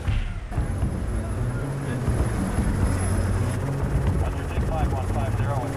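An aircraft lifting off, a loud steady rotor-and-engine drone filling the whole stretch, with voices talking underneath.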